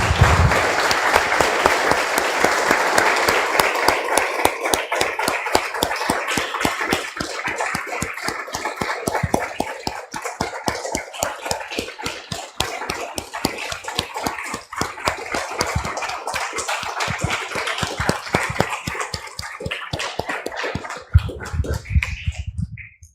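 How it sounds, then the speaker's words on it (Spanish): A church congregation claps together after a prayer, giving about twenty seconds of dense, steady applause that holds strong and then thins out near the end. "Damos un aplauso, hermanos, al Señor"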